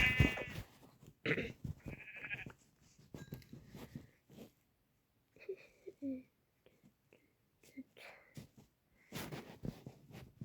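Several short sheep bleats in a video game, some close and some farther off, scattered between quiet gaps alongside soft clicks and rustling game sounds.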